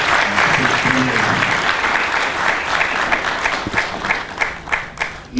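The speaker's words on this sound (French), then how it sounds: "je voudrais que nous puissions applaudir" Audience applause at a Christian literature fair in Kinshasa, a broad steady wash of clapping that thins toward the end into a few scattered, separate claps.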